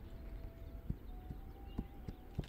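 Horse hoofbeats in the video game This Land is my Land: a handful of soft, evenly spaced clops in a walking rhythm over a quiet ambient hum, with a faint thin tone running beneath.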